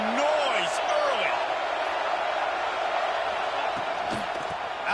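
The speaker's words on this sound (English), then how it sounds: "This crowd bringing the energy and noise early." A stadium crowd roars at a high school football game, Bodie against Walker, a loud sustained wash of cheering with whoops and shouts rising early and fading slightly.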